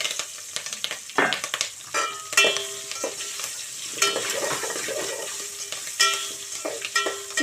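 Onions and green chillies frying in oil with a pinch of asafoetida for sambar, a bright continuous sizzle close up, punctuated by frequent spoon stirs and metallic taps on the pan.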